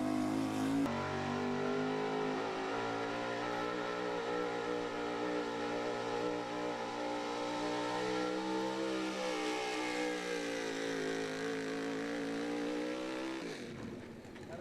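Roaring engine of William Campbell's 1976 Ford pulling truck, the Scalded Dog, during a truck and tractor pull run, a loud, sustained harmonic drone that rises and strains steadily for about thirteen seconds before cutting off near the end.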